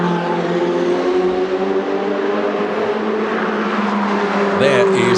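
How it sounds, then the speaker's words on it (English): A Ferrari 488 Challenge race car at Monza during a Ferrari Challenge Europe Trofeo Pirelli race: a steady, loud engine drone holds throughout with a brief rise in pitch near the end. "There is the number 73 car of Robin Jensen"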